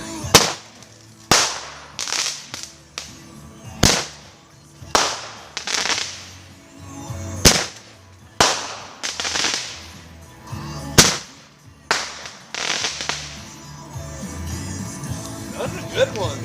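A Fourth of July wedding cake firework going off: a series of sharp, loud bangs at an uneven pace, each followed by a crackling fizz, with people talking in between.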